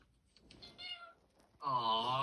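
A cat meows from a cat video playing nearby, first a few short soft mews, then one longer, louder drawn-out meow at the end.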